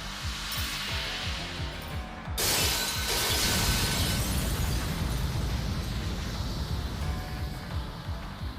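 Gothic fort shattering in the visual novel Tsukihime: a sudden loud crash of breaking glass-like material bursts out, then gives way to a long, dense wash of crumbling debris and roaring noise that holds steady to the end.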